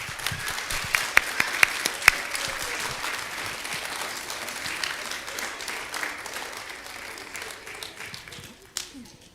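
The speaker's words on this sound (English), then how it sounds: "I wish you guys would join me in a round of applause for Miss Hawquist." A round of applause for a third-grade teacher at a school's year-end honor roll chapel: steady, dense clapping from a large audience for about nine seconds, with a few sharper claps near the start, before it thins out and fades.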